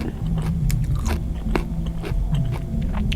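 Crunchy radish bitten and chewed up close, a series of crisp crunches and wet chewing sounds over a few seconds, no speech.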